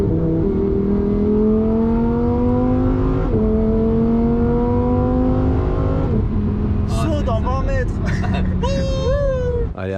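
A Lamborghini in rally mode accelerates hard through its gears, the engine note climbing steeply then dropping at each shift, loud and close, before dying away under excited voices and high squeaky vocal sounds.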